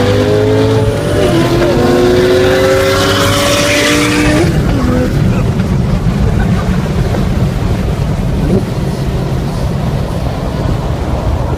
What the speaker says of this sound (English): it takes like a second or two for those turbos to spool up.